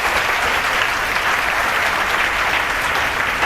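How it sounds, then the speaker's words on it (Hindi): Loud, sustained applause from an audience at an institute ceremony honoring a student's exam rank, steady dense clapping throughout with no speech over it. "एक बार तालियां हो जाए बहुत जोर से।"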